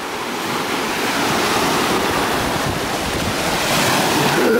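Waves break and wash against a wet, rocky Lake Superior shoreline at Pictured Rocks, a loud, continuous roar of surf mixed with gusting wind buffeting the microphone.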